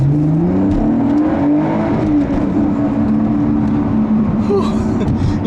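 A 2014 Lotus Evora S sports car accelerates hard, its engine note climbing in pitch and dropping at gear changes, loud and close throughout.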